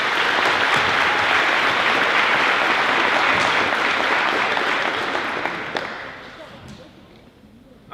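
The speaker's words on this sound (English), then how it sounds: "so let's give Fisher a round of applause." Loud, sustained audience applause fills a school awards ceremony at St Marys High School, dense clapping holding steady for about six seconds before thinning out and fading toward the end.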